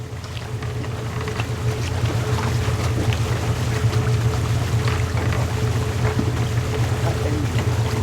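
A boat engine in a video game gives a loud, steady, low droning rumble that runs unbroken throughout.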